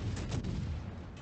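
Warship guns firing in World of Warships: a dense, rumbling low boom that rolls on for about a second, muffled and continuous rather than separate shots.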